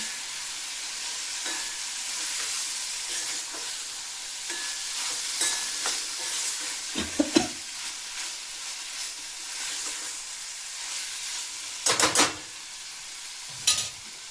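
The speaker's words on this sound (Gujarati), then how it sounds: "આપણે એડ કરી દઈશું એકદમ સરસ આપણે બધું મિક્સ કરી લેવાનું છે" Potatoes and val beans are stirred in a pan as part of a Gujarati home-style vegetable dish, giving a soft continuous sizzle broken by a few louder scrapes of the spoon against the pan, with no one talking.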